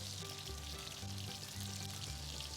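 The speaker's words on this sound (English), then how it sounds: "Start by frying the prawns over medium-low heat." Prawns fry in a pan over medium-low heat, giving a steady soft sizzle and crackle of hot oil, fairly quiet and close, with no voices.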